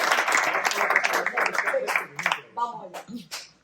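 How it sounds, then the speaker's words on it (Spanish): Applause from a workshop audience at a first-proclamation training event, dense clapping for about two seconds that fades as a speaker's voice carries on over it and afterwards. "Un aplauso por la respuesta."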